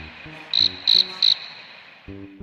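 Crickets chirp by a lake, three bright, evenly spaced trills standing out over a faint background buzz of other insects.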